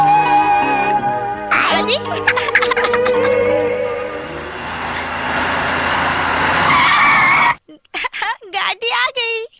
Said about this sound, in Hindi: गाड़ी आ गई।